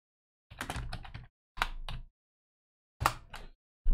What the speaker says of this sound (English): Smash the keyboard a bit until you get what you want.